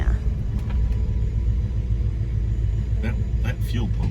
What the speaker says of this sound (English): That fuel pump is loud.